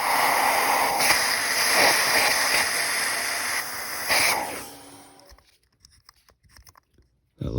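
A spray can of lubricant hisses in several short bursts onto a rusty part of a Volvo S60 engine during a spark plug job, close and fairly loud, then stops into near silence with faint handling clicks.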